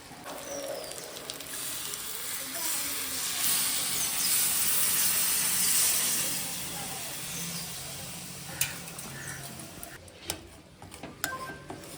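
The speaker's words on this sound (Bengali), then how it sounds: "এবার এর মধ্যে দিয়ে দেবো এই যে গরম জল" Hot water added to sizzling, braised Deshi-style mutton curry in the pot, producing a broad rushing hiss and steamy sputter that swells then fades, ending with a few sharp clicks and clatters.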